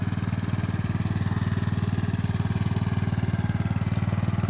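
A mini cultivator's small engine runs steadily while ploughing a wet rice field. It makes a close, continuous, even chugging drone at a constant speed, with no voices.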